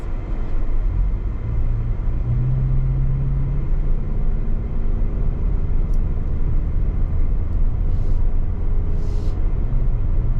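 A 2024 Toyota Venza Limited hybrid SUV with a CVT pulls away from a stop, a steady loud cabin rumble of road and drivetrain noise with a faint rising whine, no talking.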